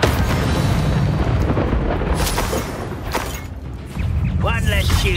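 Confringo blasting-spell explosions in the Hogwarts Legacy video game, a loud sustained rumbling burst filling the first few seconds, then a quieter stretch before another heavy blast swells near the end, with a voice speaking over the din.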